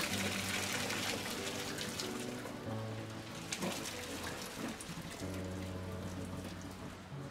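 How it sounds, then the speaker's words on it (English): Boiling water is drained off cooked potatoes, a continuous splashing gush with sizzling, spattering texture running about seven seconds under a low tonal hum, with no talking. "Drain the boiling water."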